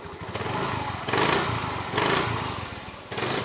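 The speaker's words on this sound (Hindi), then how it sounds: "एक इंजन से इसका साउंड आ रहा है" A TVS Jupiter scooter engine with a wiring fault runs steadily nearby, a continuous buzzing drone that swells in loudness about once a second, with no talk over it.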